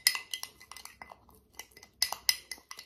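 A spoon clinking and scraping against a bowl while stirring a vegetable gelatin skin-care mixture, quick irregular metallic taps close up, alone without talk.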